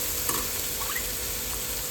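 Chilies and spices are stirred and sautéed in a pan for a bitter gourd dish, making a steady moderate sizzle with a few soft stirring scrapes.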